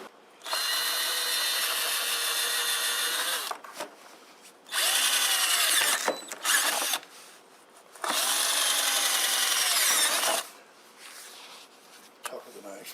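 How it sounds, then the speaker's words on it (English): A power drill whines in three sustained bursts with short pauses between, close and loud, with faint scraping in the gaps, drilling holes in a Givi Easylock motorcycle rack on a Yamaha FJ-09. "simple matter now of drilling the holes."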